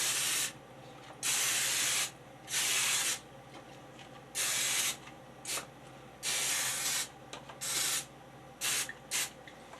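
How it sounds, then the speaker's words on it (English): Several short bursts of olive oil cooking spray hissing, each lasting about a second with brief pauses between, close up and fairly loud, with no talking. "This is just olive oil, spray olive oil."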